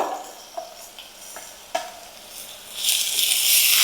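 Tomatoes are added to softened golden onions in a pan for a Kolhapuri tambda rassa curry: a steady close sizzle with a few scraping stirs and taps of a spoon, the hiss swelling louder near the end.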